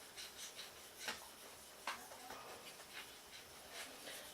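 Knife blade stroked on the 6000 grit side of a whetstone, soft, quiet, repeated rasping swipes in an even rhythm, close up with no talk.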